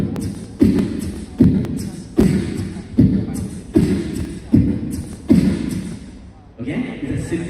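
Beatboxed kick bass, hi-hats and snare mixed together into a steady vocal beat, with regular punchy low thumps about every 0.6 seconds and crisp noisy hits between, performed alone by a single voice imitating a drum kit.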